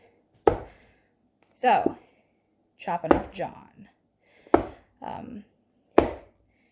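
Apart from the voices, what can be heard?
chopping food on a cutting board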